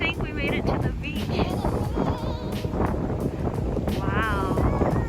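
Strong wind blows at a beach in Malaga, Spain, buffeting the microphone with a steady, loud rumbling roar that continues without break, while people talk over it now and then.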